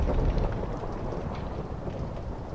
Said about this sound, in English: And it's a thunderstorm